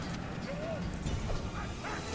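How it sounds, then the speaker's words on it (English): War dog units in Rome: Total War yelp and bark in short, sharp bursts with a rising whine, all under steady battle noise. "War dogs."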